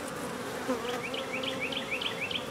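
Close, steady buzzing of many bees around a hive, with a few individual bees droning past nearby.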